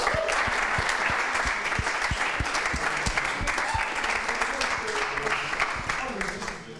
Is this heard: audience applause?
yes